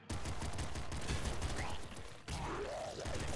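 A double machine gun fires in the game Nuclear Throne, a dense, rapid burst of gunfire that runs almost unbroken with a brief dip in the middle.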